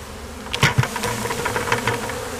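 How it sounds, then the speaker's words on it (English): A close, buzzing drone of honeybee field bees flying past in a bee yard, with several louder passes rising and fading over a constant insect hum. "Those are field bees. See how they're flying back up?"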